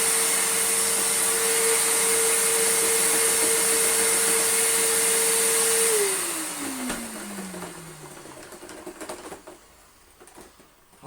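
A Panasonic MC-E465 bagged upright vacuum cleaner with a missing belt runs at a steady high whine, then winds down after about six seconds, its motor pitch sliding lower as it coasts to a stop with faint rattles.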